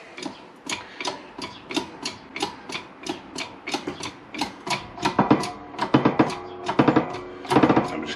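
A wheel bearing is pressed into the rear hub of a Honda VFR800 VTEC motorcycle using a press and a socket. A steady run of close, rhythmic creaking clicks comes several times a second and grows louder and denser toward the end.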